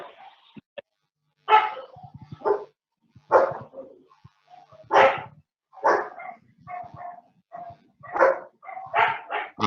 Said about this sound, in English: the dogs here